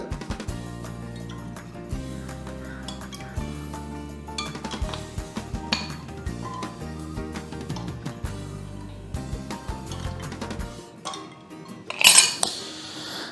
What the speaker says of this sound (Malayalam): ഇനി നമ്മൾ ഇതിലേക്ക് ആഡ് ചെയ്യാൻ പോകുന്ന ഐസ് ആണ് കേട്ടോ ഐസ് ക്യൂബ്സ് ആഡ് ചെയ്യാൻ പോകുന്നത്